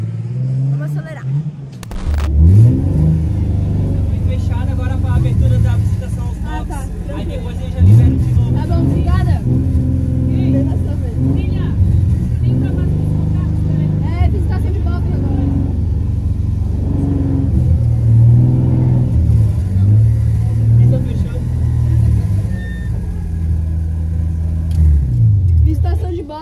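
A car's engine revs and accelerates through drift night runs, a loud, steady rumble rising and falling with throttle, while people talk over it throughout.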